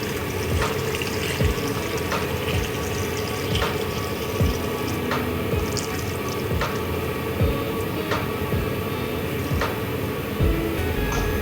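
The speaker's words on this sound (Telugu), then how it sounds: "ఈ వాటర్ ఇందులో పోసుకోవాలి పోసుకోవాలి చూపిస్తాను చూడండి" Water runs and splashes steadily into a cooking pot on the stove for prawn and rice, a continuous close pouring sound with occasional clinks, no talking.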